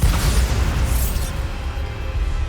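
A Bombarda spell explodes in Hogwarts Legacy, a deep booming blast whose low rumble lasts a couple of seconds.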